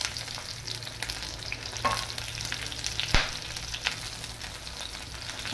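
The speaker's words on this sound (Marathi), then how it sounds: "आता हे मी चांगलं मऊ होईपर्यंत हे करते, मिक्स करते।" Tomatoes, green chillies, ginger, garlic and almonds fry and get stirred in a pan, a steady close sizzle with occasional scraping stirs, no voices.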